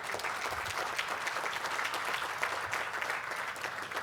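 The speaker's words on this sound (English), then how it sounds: "And you can clap for that." Dense, sustained audience applause at a groundbreaking ceremony on North Broad Street, steady and fairly close, filling the whole stretch with no talk over it.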